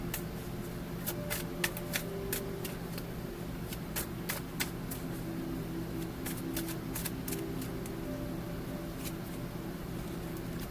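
Tarot cards being shuffled by hand, soft riffling with a run of crisp card snaps and flicks at irregular intervals, close and fairly quiet over a low steady background hum.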